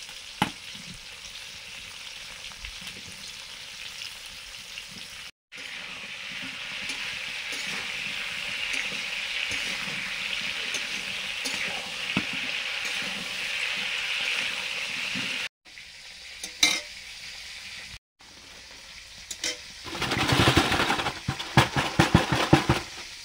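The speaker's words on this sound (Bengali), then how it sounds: "ফুলকপিগুলো ভেজে নিচ্ছি" Cauliflower florets frying in hot oil in a pan for a home-cooked khichuri meal, giving a steady close sizzle with stirring. Short pauses break it up, and a louder, crackling burst of frying comes near the end with no talk.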